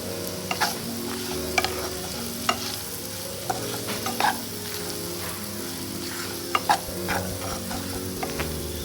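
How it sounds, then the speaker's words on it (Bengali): Chopped vegetables fry and sizzle in a pan for a Bengali paneer dish while a utensil stirs them, with continuous sizzling and scattered sharp scrapes and clinks of the spoon against the pan. "এরপর আমি এই ভাজা সবজিগুলোর মধ্যে ওই দইয়ের ব্যাটারটা দিয়ে দিলাম, দিয়ে একটু ভালো করে নাড়তে হবে"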